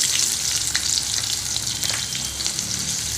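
Chopped onions and halved green chillies frying in a pan, a dense close hiss of sizzling oil with small crackles and occasional stirring, no voices.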